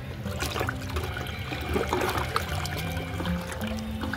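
Plant solution is mixed into water in a watering can for potted plants, giving a steady trickling, sloshing pour with small splashes throughout.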